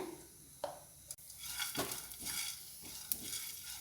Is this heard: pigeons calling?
no